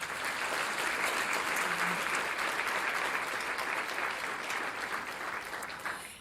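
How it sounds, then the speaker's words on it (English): Steady, dense applause from a large crowd at an awards breakfast fills the whole stretch, loud and continuous before tapering slightly at the end. "let's give those folks a round of applause"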